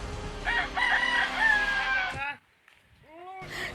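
A fighting rooster crows loudly nearby at an illegal cockfight in Laguna, Philippines, a clear rising cock-a-doodle-doo, then a second crow starts after a short pause.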